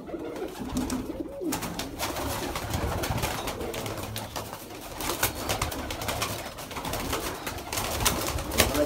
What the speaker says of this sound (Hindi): ये है सियालकोटी कबूतर।